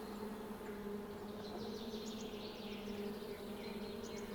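Honey bees buzz around a swarm cone trap, a faint, continuous drone with steady hum tones and flickering higher wingbeats of many insects close by, no talking.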